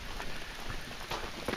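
Rain falls outdoors beside a septic field with newly planted grass, a soft steady patter close by with scattered louder drops and no voices.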